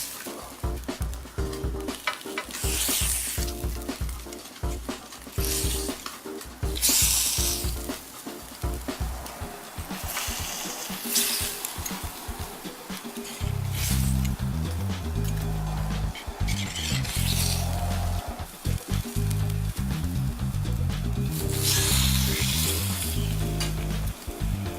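Meat kabobs searing on a hot grill give a steady, close sizzle and crackle that runs through the whole stretch, with a low rumbling hum joining in the second half.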